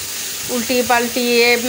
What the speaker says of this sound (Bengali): এই যে এবার আমি এই মাছটা আর কি ঢেলে দিচ্ছি পেঁয়াজের মধ্যে।